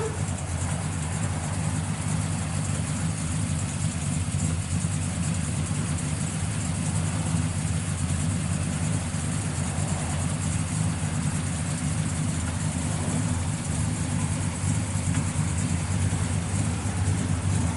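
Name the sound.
1966 Chevrolet Chevelle SS 396 V8 engine idling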